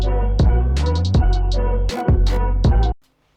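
A short electronic beat hits loudly, with heavily distorted bass and a punchy limiter-boosted kick pounding in a steady pattern before cutting off abruptly into near silence.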